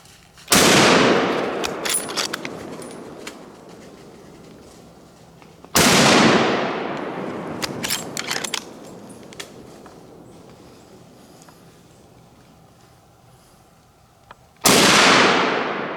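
Three sharp, loud rifle gunshots ring out during a deer hunt on wooded public land in the Alabama mountains, each followed by a long rolling echo that fades over several seconds, spaced irregularly with quiet outdoor ambience between.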